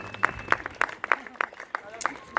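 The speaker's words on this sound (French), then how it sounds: "Je vous demande de vous applaudir, s'il vous plaît" Scattered, fairly regular hand claps from a small group at the opening of the Virton carnival, a sharp clap every few tenths of a second with voices mixed in.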